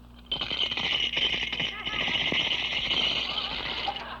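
Coins rattle inside a hand-grenade-shaped piggy bank being shaken, a loud continuous metallic jangle lasting a few seconds in an old radio recording, with voices talking over it.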